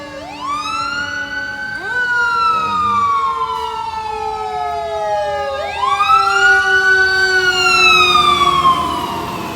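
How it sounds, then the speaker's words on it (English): Fire truck sirens wail through a city street in uptown Charlotte, two long rising-and-falling sweeps carrying loud and steady over distant traffic rumble. "there is some fire trucks"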